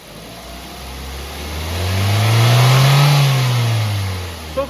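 Petrol engine of a 2016 Maruti Swift VXi, revved once from idle in a smooth rising and falling swell, loud and close, then settling back down.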